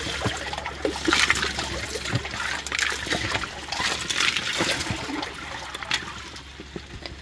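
Wooden kitchen spoon stirring ice water in a plastic tub for an ice bath, giving a steady trickling, sloshing swirl with faint knocks from small ice chunks, close and moderately loud, no voices.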